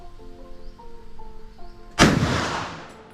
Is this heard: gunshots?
yes